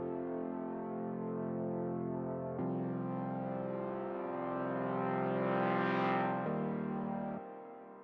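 A filter on a sustained, distorted synth chord in a minimal electronic track is automated by FabFilter to open and close gradually, brightening to a peak before snapping back darker, continuous and loud with no talking.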